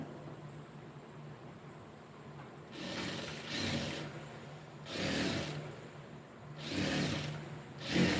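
A sewing machine stitches along the edge of a blouse lining in several runs of steady mechanical whirring a second or so long, separated by brief pauses, close and moderately loud with no talking.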